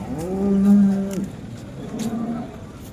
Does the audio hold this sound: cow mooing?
yes